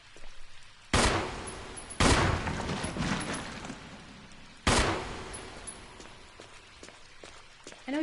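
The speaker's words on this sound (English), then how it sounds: "I know you don't need to shoot those sharks" Gunfire from a Resident Evil game aimed at sharks: a few sharp, loud shots spaced seconds apart, each followed by a decaying echo and quiet in between.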